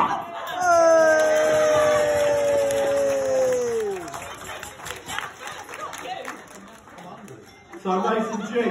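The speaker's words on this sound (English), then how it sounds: "if we give our bride and groom one more round of applause" Wedding guests applaud the bride and groom, steady crowd clapping swelling and then thinning out, with a loud sustained cheer or shout over the start and voices talking beneath.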